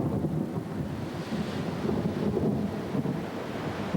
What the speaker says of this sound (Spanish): de repente los barcos se ven curiosamente atacados por fuertes tormentas